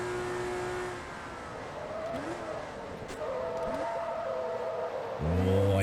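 A TVR Tuscan S races in Forza Motorsport 2, its engine revving steadily with upshift dips and a loud surge at the end, while a voice talks over it.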